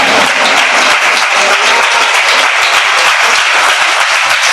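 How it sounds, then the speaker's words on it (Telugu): A church congregation claps hands together in praise during a Sunday service, a loud, dense and steady wash of applause filling the room throughout with no talk over it. "చేతులెత్తి చప్పట్లు కొట్టి"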